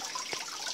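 A small garden waterfall runs steadily, a soft continuous splash and trickle of water with a brief fuller gush partway through, heard close and alone.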